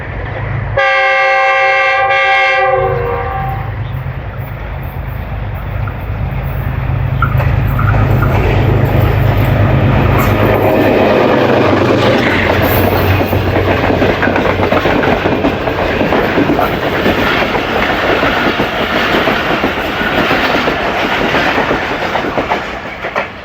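Tezgam 8 Down passenger train passing through an old bungalow-style railway station, opening with a loud horn blast, then a long, close, roaring rumble with rhythmic clattering of wheels over rail joints.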